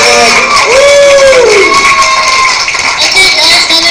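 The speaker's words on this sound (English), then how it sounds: "let's have a huge cheer and a huge round of applause for our wonderful cosplay ambassador" A cosplay panel audience cheers and whoops loudly, with shouts and voices in a dense, sustained roar. One voice gives a rising whoop near the start.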